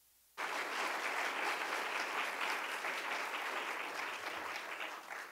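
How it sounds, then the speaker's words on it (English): Conference audience clapping for a speaker at a landscape conference, with sustained, full applause that starts suddenly and holds steady before slowly fading a little toward the end. "let's have a round of applause for him"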